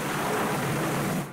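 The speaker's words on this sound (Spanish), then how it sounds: "¡Un trueno! ¡Qué miedo!" Thunder from an animated cartoon, a loud, broad rumbling crash that fills the moment with heavy noise and fades slightly at the end.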